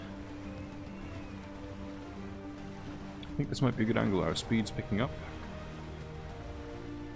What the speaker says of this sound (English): the rain lashing out from the side. We're riding the waves.